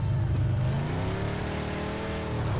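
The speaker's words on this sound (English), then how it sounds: "This is a muscle car." A muscle car's engine revs hard in PUBG, a loud, steady mid-pitched roar whose tone climbs and shifts as it accelerates, with no voices over it.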